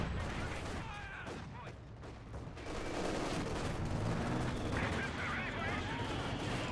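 Dense gunfire and German mortar fire rumble through a Company of Heroes 2 battle, a steady wash of distant shots, thuds and explosions with rapid bursts rising and fading, and a voice speaking over the noise.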